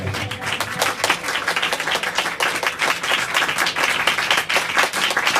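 A congregation applauding during a church sermon, loud, close clapping from many hands in a busy, uneven rhythm that carries on steadily throughout.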